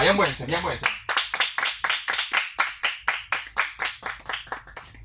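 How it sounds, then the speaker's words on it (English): A symposium audience claps in a quick, rhythmic burst of about a dozen sharp, even claps after a brief spoken line. "Let's do the clap ourselves."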